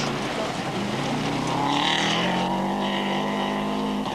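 A rally car at the 1999 Opet Aegean Rally near İzmir races hard along a dirt stage, its engine loud and close, the pitch climbing and shifting as it revs through the gears.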